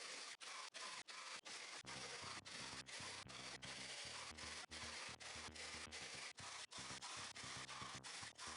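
A jigsaw cuts through wood for a raised planter frame, its steady buzzing rasp running almost unbroken and close, with short gaps between cuts and a low rhythmic thrum underneath.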